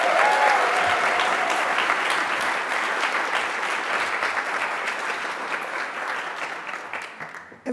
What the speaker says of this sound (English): let's have a round of applause for the BXA graduates in the class of 2023